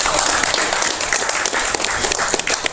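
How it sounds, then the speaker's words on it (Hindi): Loud, dense applause from the audience at the close of a fire safety training programme for tourist vehicle owners at a fire and emergency services headquarters, steady and sustained throughout. "तो एक जोरदार तालियां हमारे"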